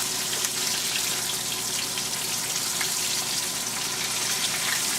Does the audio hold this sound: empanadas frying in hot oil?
yes